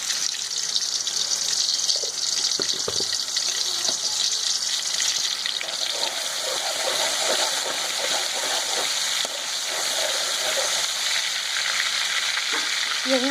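One teaspoon of ginger garlic paste fries in a little oil for Schezwan noodles, giving a steady hiss and sizzle with occasional stirring scrapes and small knocks, close and continuous with no talk.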